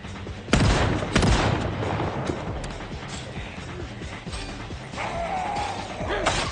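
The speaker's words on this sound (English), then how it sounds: "Am I going to have to shotgun this?" Two loud shotgun blasts fired at a group of zombies in the video game Project Zomboid ring out close together near the start, followed by clattering, rumbling in-game ambience.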